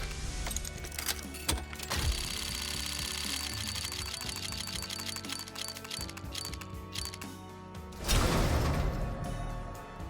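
Case opening with a key in a video game, a rapid ratcheting clicking roulette spin that ticks steadily for several seconds, slows, then ends in a loud reward burst.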